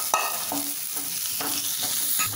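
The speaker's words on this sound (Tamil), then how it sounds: "இப்போ இதை எல்லாமே எண்ணெயில் ஃப்ரை பண்ணிக்கலாம்" Cauliflower pieces with spice powders sautéing in hot oil, a bright continuous sizzle with several clear scrapes and clinks of a spatula stirring the pan.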